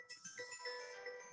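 A mobile phone ringtone chiming nearby, a short bright melodic jingle of rising and falling tones lasting just over a second, fairly quiet with no talk over it.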